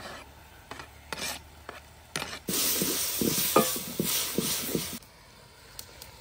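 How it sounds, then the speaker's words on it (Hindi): Green garlic stalks stir-frying in a kadhai, with a sustained rasping sizzle and scraping stir strokes, preceded by a few intermittent scraping stirs and fading into quiet at the end. "अभी लहसुन के ग्रीन पोर्शन को भी कढ़ाई में डाल लेंगे।"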